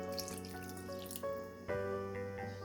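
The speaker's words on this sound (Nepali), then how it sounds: "अब मैले यसमा राखेँ आधा लिटर जति मनतातो पानी" Warm water pours steadily into a pot of chicken curry, a faint continuous splashing gush with a faint hum in the background.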